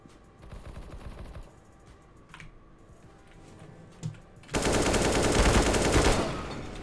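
Automatic weapon fire from a video game shooter: lighter rattling bursts early on, then a loud, sustained, dense burst of rapid shots lasting about two seconds near the end.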